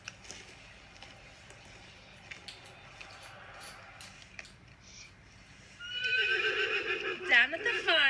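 Horses neigh loudly and repeatedly at a Vermont farm at sunset, the whinnies rising over a quieter background of faint knocks and ambient noise that fills the first several seconds.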